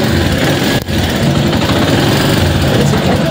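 A small engine is cranked to life and then settles into a steady, loud idle with a brief dip just after it catches, with no talking over it.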